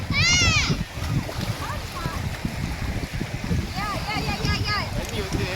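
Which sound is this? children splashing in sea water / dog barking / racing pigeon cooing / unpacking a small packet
children splashing in sea water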